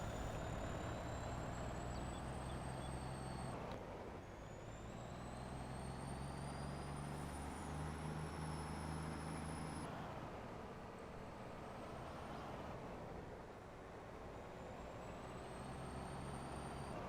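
A tractor pulling a trailer in Farming Simulator 22, its engine droning steadily and close, with rising whines as it shifts through gears, and no talking.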